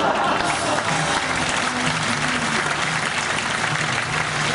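An audience at a magic show claps in a thick, sustained wave of applause after a trick, with faint voices mixed in.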